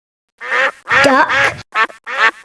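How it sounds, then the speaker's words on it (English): Duck quacks in a close, clear series of about four nasal calls separated by short pauses, heard alone with no talking. "Duck."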